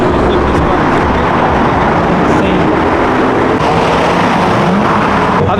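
Cars pulling out of a car meet, engines droning loudly and continuously as they drive off, with a dense, steady wash of motor and road noise throughout.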